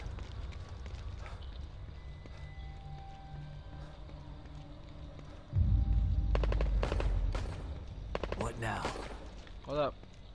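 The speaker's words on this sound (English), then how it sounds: "I hear the gunfire of brethren." Bursts of video-game gunfire break out loud and close after a quiet stretch, with rapid rattling shots and a few sharp cracks, while game sounds continue underneath.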